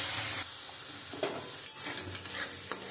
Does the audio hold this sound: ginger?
yes